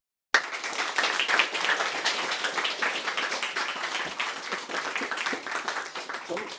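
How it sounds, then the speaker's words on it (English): An audience applauds loudly and continuously as a speaker is welcomed at a talk on going viral on social media, with dense clapping and some cheering throughout. "let's give a massive, massive round of applause for my friend, Timo."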